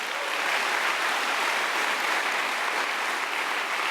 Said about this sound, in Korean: 그 위대한 일을 해낸 문선명 총재와 워싱턴 타임즈에게 감사의 환호와 박수를 이분이 올렸던 것입니다.